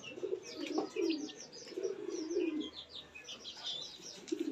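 Inbred stock racing pigeons coo repeatedly in a loft, with soft throaty calls layered over chirps and faint wing flutters, moderately close.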